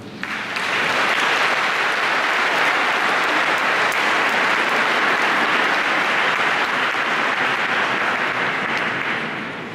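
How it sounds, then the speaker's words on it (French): A church congregation at a synod celebration applauds, dense sustained clapping that rises quickly, holds at full strength, and tapers off near the end. "Je crois que nous pouvons les applaudir"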